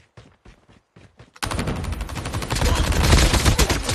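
Call of Duty Mobile gunfire: several sharp single shots, then a dense burst of rapid automatic fire, loud and close, with no talk.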